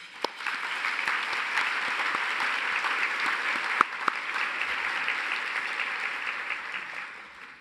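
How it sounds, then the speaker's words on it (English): Event guests at a Women Helping Women gathering applaud the sponsors, a sustained, even wash of clapping from a large room with a couple of sharper claps standing out. "Please join me in a round of applause for our sponsors"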